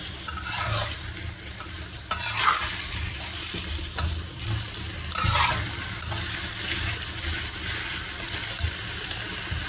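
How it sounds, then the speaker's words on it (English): Chicken curry with potatoes being stirred in a pot, with a steady soft scraping and faint sizzle and a few louder clinks of the spoon against the metal, close by and with no talk. "Just give it a stir."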